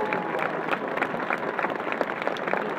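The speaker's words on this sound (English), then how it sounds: "let's give them a round of" Stadium crowd applauding veterans and active service members at a college football halftime military appreciation show, a dense, steady wash of clapping from a large crowd at a distance, continuous throughout.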